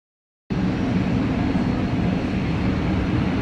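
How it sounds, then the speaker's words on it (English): A Ford Tri-Motor, an early all-metal three-engine airplane, droning steadily and loudly after a brief silence, its engine roar constant and close throughout. "the Ford Tri-Motor flew in and they were giving rides"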